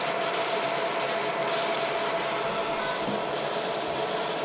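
A 20W fiber laser runs continuously while its focus is adjusted, a steady close hissing buzz with a faint tone, its loudness shifting slightly as the focus passes the sweet spot.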